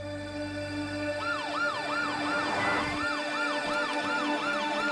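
A police siren wails in repeated rising and falling sweeps, growing louder and then holding steady and close for several seconds, with no talking over it.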